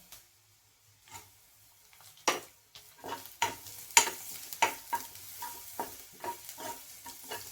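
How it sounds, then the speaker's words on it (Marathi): Garlic frying with browned onions in a pan for a spicy kat vada curry, a soft steady sizzle broken by repeated stirring scrapes, close and without talk. "दोन मिनिट छान तळून घ्यायचं लसूण पण."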